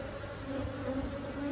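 Honeybees in the air around an open hive during an inspection make a steady, close, layered buzzing drone with shifting tones, continuous and without speech.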